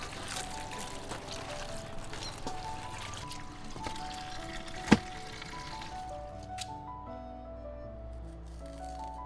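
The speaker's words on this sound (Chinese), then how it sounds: "把笋洗一下" Water pours and trickles while freshly dug bamboo shoots are washed, a soft steady splashing with faint squishes and one sharp knock midway, quieting near the end.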